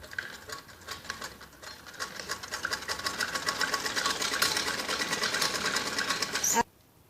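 A sewing machine running a long gathering stitch on a strip for a kids' skirt, a steady close mechanical whir that builds slightly and then stops abruptly near the end.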